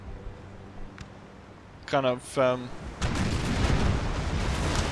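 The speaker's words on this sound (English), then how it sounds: "Good canister shots going in there." Naval cannons firing canister shot in the naval battle game NTW 3: a sharp crack, then a brief tonal burst, then a heavy rumbling barrage that rolls on continuously and loudly to the end.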